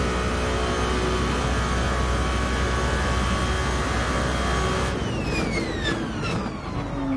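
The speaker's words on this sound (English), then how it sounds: "I'm definitely enjoying this car. And the sound even, especially when braking and shifting down." Hypercar in Gran Turismo 7 braking and downshifting: a loud, steady engine drone that shifts at the end into falling revs and blips, close and with no one talking.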